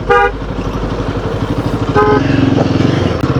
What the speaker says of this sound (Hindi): बर्फ़ में ब्रेक लगानी, बाइक फिसलते हैं, और बाइक को मैनेज करना, देखो कैसे मैनेज करना पड़ रहा है।